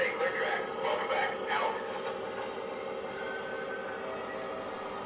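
Lionel Rail King model train passenger cars roll past with a steady rumbling clatter, louder at first and then settling into an even, continuous rolling noise.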